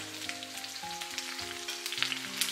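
Cabbage stems and dried chilies stir-fried over high heat in a wok, a steady close sizzle with scraping spatula strokes and tossing shuffles throughout, no talking.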